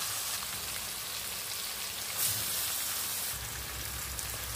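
Spiced, marinated chicken sizzles and crackles steadily in hot mustard oil with dried red chillies and whole cumin in a wok, a soft continuous hiss that swells briefly partway through.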